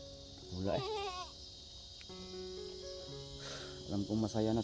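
A goat offered as a sacrifice bleats in wavering calls, first near the start and then in a quick run of three at the end, fairly close over steady insect chirring with no talk.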